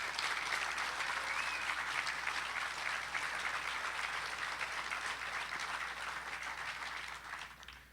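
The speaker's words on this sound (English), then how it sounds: "Let's give them another round of applause." Sustained audience applause at a driver appreciation event honoring Vietnam veterans in dress blues, a dense steady clatter of many hands that holds for most of the clip and tapers slightly at the end.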